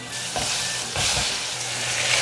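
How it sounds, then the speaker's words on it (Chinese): Steady, loud sizzling of king oyster mushrooms frying in hot oil, with a few brief bursts of bubbling as pieces are moved around. "现在我们来炸杏鲍菇，杏鲍菇放进来"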